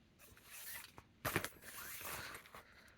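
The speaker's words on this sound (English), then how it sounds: "It has this very big toothed plastic zipper" A large-toothed plastic zipper on a Longchamp Le Pliage bag handled up close, a burst of rasping clicks in the middle amid softer rustling and fabric movement, quiet overall.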